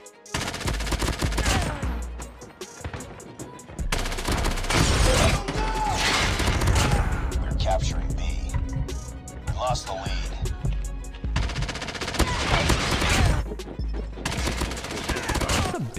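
Rapid automatic bursts from a QXR gun in a video game, loud close rattling volleys separated by brief pauses, with mechanical clicks in between and a voice talking over some of the firing.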